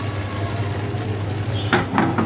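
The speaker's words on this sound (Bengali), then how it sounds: "আমরা এক একটা করে রুটি বানাবো আর একটু করে তেল ব্রাশ করে নিব এরকম ফ্রাই প্যানের মধ্যে" Roti batter fries in an oiled frying pan with a steady, close sizzle that fills the whole moment. A couple of sharper scraping touches land near the end.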